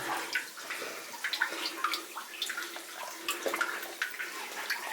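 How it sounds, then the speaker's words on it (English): Water trickles and drips continuously inside a flooded mine, with small splashes and gurgles echoing faintly in the enclosed space. "I hear water trickling down from somewhere"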